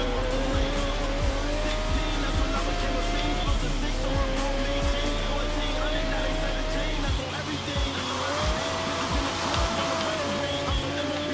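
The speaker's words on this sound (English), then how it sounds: "Cannot be trying to drift on this wet ass road." Car in the Forza Horizon 3 video game drifting on a wet road, with a sustained, loud tire squeal over a steady engine drone that rises and falls through repeated slides.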